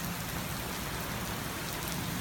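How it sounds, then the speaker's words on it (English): Steady heavy rain pours down continuously, a dense broadband hiss of drops on surfaces with no pauses. "it's raining hard"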